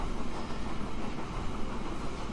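Freight train running in the video game Transport Fever, a steady dense rumble and rolling rail noise with no clear breaks, moderately loud and continuous throughout.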